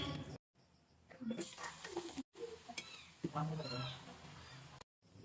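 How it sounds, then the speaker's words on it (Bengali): Rice-cake pitha frying in a pan, giving a quiet sizzle with some stirring while a person talks over it and short breaks fall between sounds. "দেখেন এটাকে এখন ভাজাভাজি করব"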